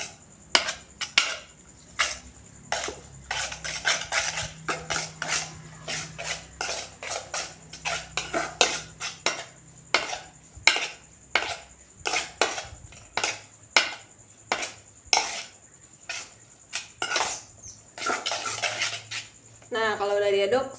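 A spoon knocks and scrapes against a bowl in a steady series of clinks and taps as food is stirred, close up, with a short burst of faster clattering near the end and no talk.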